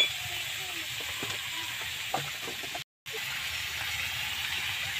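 Onions frying lightly with a small amount of turmeric in a home kitchen pan, a steady soft sizzle with a few brief stirring clicks, fairly quiet and alone, with one short dropout midway.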